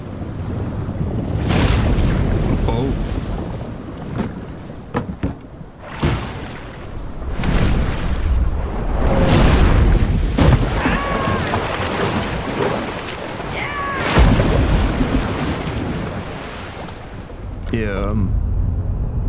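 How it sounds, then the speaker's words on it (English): In the Dave the Diver video game, a small ship is dragged into the depths of the ocean by the Kraken: loud surging water, wind and rumbling waves with creaking and brief strained cries, continuous and close. "I got to see this small ship get dragged to the depths of the ocean by the Kraken"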